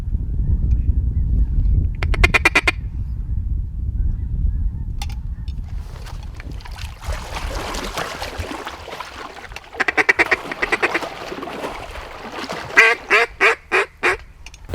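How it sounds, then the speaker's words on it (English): Ducks out in the field answered by a hand-blown duck call giving a feeder call, with rapid bursts of quacking chatter in repeated runs over low wind rumble and the birds calling back at a distance. "And one of them gave a feeder call, so I gave one back."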